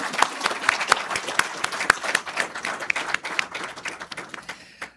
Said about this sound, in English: So now we can applaud everybody.